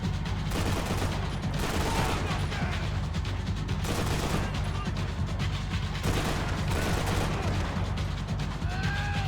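Sustained gunfire from a Max Payne 3 shootout, with dense overlapping shots and bursts rolling continuously and loudly through the whole stretch with no pauses and no talking.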